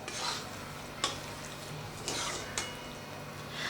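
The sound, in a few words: onion and capsicum stirred with spices in a pan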